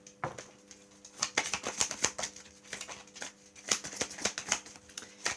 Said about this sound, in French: je prends les deux cartes de côté